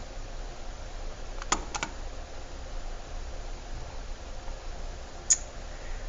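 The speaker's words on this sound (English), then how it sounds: "I'm going to click on this link right here" A few sharp computer mouse clicks, one pair close together and another single click a few seconds later, stand out over a quiet hiss of room noise.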